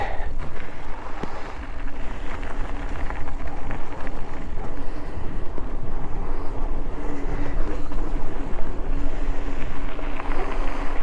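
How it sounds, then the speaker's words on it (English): Knobbly mountain bike tyres on a Kona Explosif roll along a road with a steady broadband hum and rumble, mixed with wind buffeting on a chest-mounted microphone throughout. "These tires are noisy on the road."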